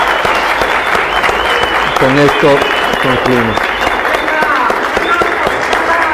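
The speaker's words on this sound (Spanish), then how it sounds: "Les invito a dar un aplauso para cerrar este acto democrático." Audience applause closing a university debate in Ecuador, a steady crowd clapping that fills the whole stretch, with a voice speaking over it partway through.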